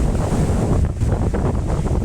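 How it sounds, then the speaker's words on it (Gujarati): Floodwater rushes hard along a riverbank in the Ghed area near Porbandar, a loud, steady broadband roar with wind buffeting the microphone throughout. "આ કિનારા ઉપર પાણી વહે છે ફૂલ"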